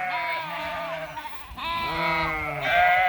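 A flock of sheep bleats loudly and close, several overlapping wavering calls in quick succession, with other animals heard outdoors on a hillside.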